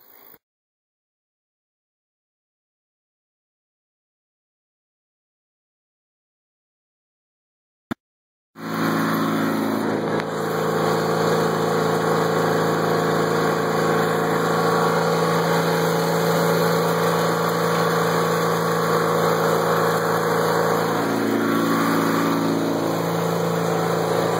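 A DragonFly vehicle's engine runs steadily while towing a stuck vehicle, a loud continuous drone that starts abruptly after a long silence, broken only by a single sharp click, and holds with little change.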